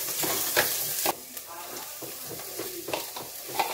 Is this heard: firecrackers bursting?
no